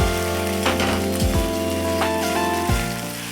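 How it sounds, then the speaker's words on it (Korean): Kimchi pancake batter frying in oil in a pan, giving a loud, continuous, close crackling sizzle with a few knocks and a steady hum behind it. "김치전도 야채전과 동일하지만 온도를 아주 조금 낮춰 반죽을 펼쳐줍니다"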